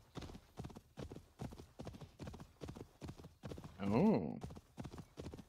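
Horse hooves clip-clop in a steady, regular rhythm throughout the Assassin's Creed Valhalla game scene, with a brief horse whinny partway through and a short spoken exclamation.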